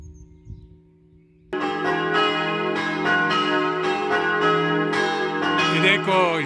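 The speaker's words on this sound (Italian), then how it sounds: "Ed ecco il suono melodioso delle campane che ci invitano alla preghiera." Church bells of a large bell tower in Friuli, Italy, break in after a brief quiet moment and keep ringing loudly, overlapping tones pealing continuously with a rich, resonant hum, calling to morning prayer.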